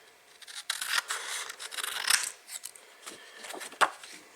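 Scissors snip through paper to cut out rocket fins for a home-built air-powered rocket, a close series of crisp, irregular cutting strokes with no voices.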